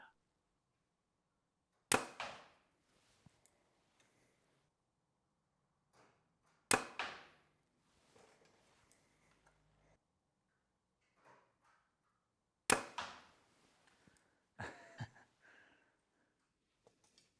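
Arrows shot from a de-tuned bow with a knock pinch strike a target three times, each a sharp loud impact with a brief rattle, spaced several seconds apart, with faint handling clicks in the quiet gaps.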